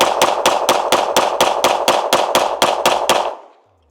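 A Springfield Hellcat Pro Comp pistol fired rapidly, about thirteen sharp, evenly spaced shots in quick succession, loud and close, ending abruptly into quiet.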